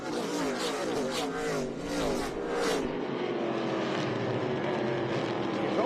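ARCA Menards Series West stock race cars run at Utah Motorsports Campus, their engines roaring loud and close as the pack passes, the pitch sliding downward as they pull away.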